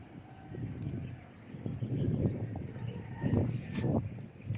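Strong gusty wind on a hilltop buffets the microphone in rumbling low waves that swell and ease, strongest near the middle and end, with no talking.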